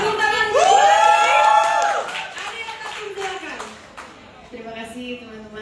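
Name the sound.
audience applause at a press conference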